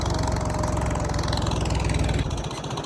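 A steady, rough engine chugging at idle nearby from an old tractor, with a dense rhythmic rumble that briefly drops in level near the end.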